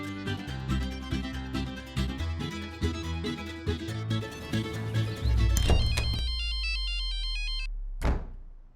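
A melodic mobile phone ringtone plays loudly through a busy tune, then switches to a bright repeating electronic ring pattern before cutting off with a sharp thump, heard in a Hindi sitcom home scene.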